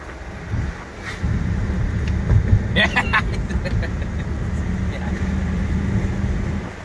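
Mahindra Bolero pickup on the move, a continuous low road and engine rumble with wind buffeting, brief rattling clatter partway through, and people talking over it.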